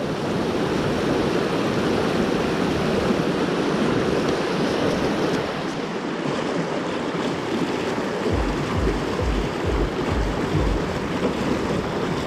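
Flowing current of a deep trout stream run with a pocket in the middle, a steady, loud, broadband rush of moving water that continues unbroken throughout, with no voices.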